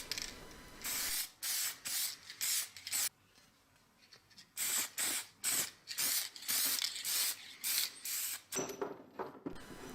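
Clear lacquer is sprayed from a can onto a restored axe with a chain-wrapped handle, in a series of short, close hissing bursts separated by pauses, with no voices.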